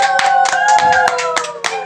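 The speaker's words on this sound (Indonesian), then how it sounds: "tepuk tangan dulu dong buat kita semua di sini" Several people clapping together on a podcast set, a close, loud burst of quick, uneven claps lasting under two seconds with no talk over it.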